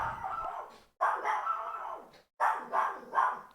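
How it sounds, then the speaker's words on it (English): A dog barks excitedly and close by in three bursts, the later ones coming in quick succession. "The dog's going berserk."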